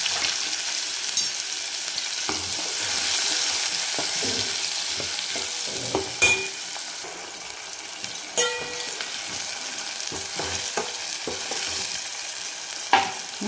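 Onion sautéing in oil with cumin, mustard seeds and asafoetida, a continuous close sizzle punctuated by repeated spatula scrapes and taps against the pan, no voices.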